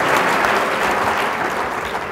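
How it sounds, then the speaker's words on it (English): Thick, sustained applause fills a service awards ceremony as the audience claps for the honorees, loud and even without a break. "Let's give them all another round of applause"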